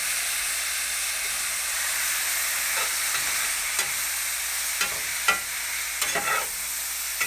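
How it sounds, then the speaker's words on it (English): Tempeh fries in a pan with soy sauce just added, giving a steady close hiss and sizzle with scattered sharp crackles and pops toward the end. "So basically, when it stops sizzling so much, you got it just right."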